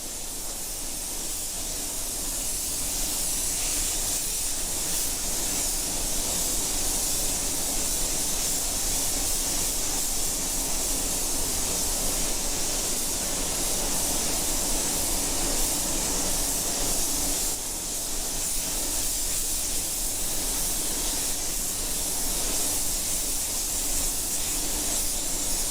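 A spray gun lays down pearl silver custom paint in a steady, continuous hiss that runs loud and even, with a brief dip midway before resuming, no voices present.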